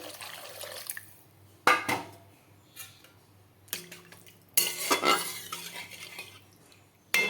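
Water poured into a cooking pan of banana-flower chop curry as oil separates, with bursts of splashing and sizzling hiss alongside clattering utensil and pan knocks, close and fairly loud.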